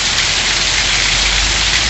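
Heavy January rain pours down in the sertão of Pernambuco, a dense, loud, unbroken hiss of drops striking surfaces close by.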